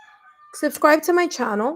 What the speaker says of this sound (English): If you can hear the roosters and the chickens in the background